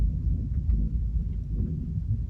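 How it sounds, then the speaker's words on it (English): Distant thunder from a nighttime storm, a low, steady rumble lasting about two seconds with no speech. "I don't know if you could hear the thunder."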